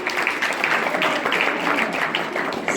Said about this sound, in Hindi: जोरदार ताली इनके लिए भी